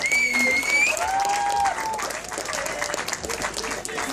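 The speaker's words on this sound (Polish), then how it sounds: "Wielkie brawo jeszcze raz." An outdoor crowd at a Children's Day event at the Soła football stadium applauds the first-team players, giving steady, dense clapping with whistle-like tones near the start.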